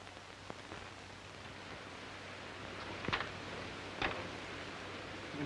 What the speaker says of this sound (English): With this rain, we'll be up to our necks in mud.